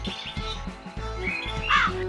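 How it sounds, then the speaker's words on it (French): Crows caw in a Hippo cartoon game, a few harsh calls rising near the end over a busy bed of bouncy game music, with no talking. "Il a demandé à la flotte de corbeaux répugnants de faire partir les invités non sollicités."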